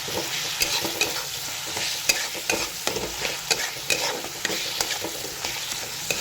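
Mushroom curry base with salt and turmeric being stirred and fried in a pan, a steady close sizzle broken by repeated scraping strokes of the spoon throughout, with no talking.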